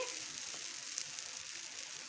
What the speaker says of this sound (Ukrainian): буду отак його на олійці смажу